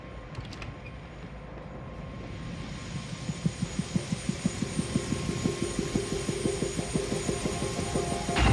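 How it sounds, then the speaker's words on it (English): A helicopter sits on a rooftop in the Prey video game, its engine whine building as the rotor starts to beat in a steady, quickening thump that grows louder and holds a regular rhythm; no talking. "Heard there's a chopper on the roof."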